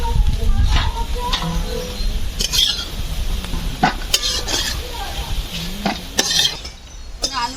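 Potatoes fried until deep red in oil in a home kitchen pan, giving a steady close sizzle with repeated scraping and clinking of a utensil being stirred against the pan.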